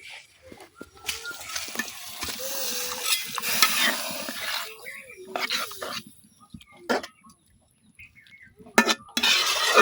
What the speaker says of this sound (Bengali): তো এই পর্যায়ে অল্প একটু ঝোল দিয়া দেন